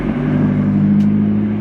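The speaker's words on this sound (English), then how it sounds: "Look at that McLaren." McLaren sports car on a Hollywood Hills road: a steady, loud low engine drone with a strong humming tone, held evenly throughout without much change in pitch.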